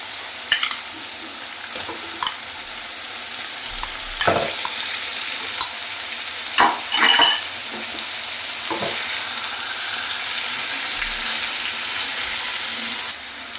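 Chicken goes into a pan of onion, ginger and garlic masala for chicken do piyaza, sizzling steadily up close, with several clanks and scrapes of a spatula stirring and no speech.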